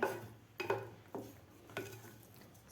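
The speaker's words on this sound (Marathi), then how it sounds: "साखरसुद्धा घालून घेऊया पुन्हा एकदा याला मिक्स करून घेऊया" Chana dal with sugar is stirred in a pan with a metal spoon, making a few quiet scraping clinks spaced over a soft, low background hum, alone without talk.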